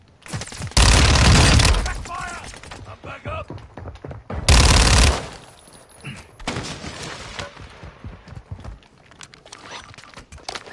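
Automatic gunfire in a multiplayer shooter game comes in two loud, sustained bursts, with scattered shots and game noise between them and people talking over the action.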